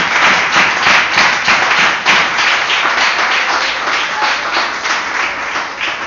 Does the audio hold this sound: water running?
no